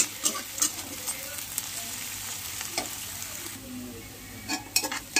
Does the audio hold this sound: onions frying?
yes